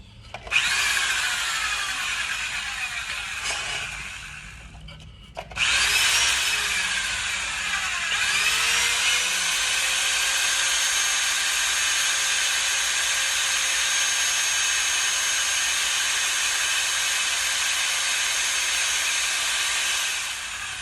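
A radius tool cuts a clean outside radius on a stainless steel edge, giving a loud, steady, close whirring grind after a short start and brief pause, with no talking.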